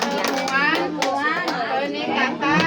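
A group, children among them, claps the P2K2 patterned clap together, sharp rhythmic hand claps mixed with chanting voices at a community gathering in Kampung Kubang, Surakarta.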